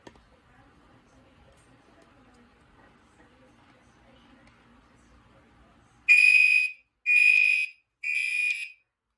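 A Notifier NFS2-640 fire alarm panel, tested with a heat detector, sounds three loud, evenly spaced electronic alarm bursts after several seconds of quiet room tone with faint background murmur.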